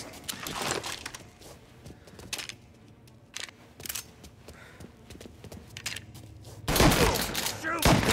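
Bursts of gunfire in a Mafia: Definitive Edition shootout, sharp cracking shots scattered across the scene with a loud heavy volley near the end, mixed with shouting voices and background scuffle.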